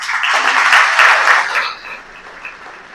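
Audience at a military brigade gala claps loudly and steadily for the head-table introduction, then the applause fades into a quieter patter.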